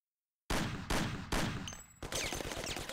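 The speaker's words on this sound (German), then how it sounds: "dann gibt es wieder ein paar Schüsse in den Rücken" Several loud gunshot bursts from the video game Mafia fire in quick succession, followed by rapid continuous gunfire with crackling, punchy and close.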